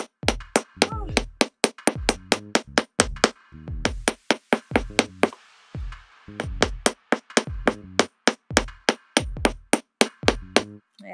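Steady metal hammer strikes flatten a wire-wrapped labradorite pendant frame, a fast even run of sharp ringing taps with a few brief pauses, close and clear with no talk.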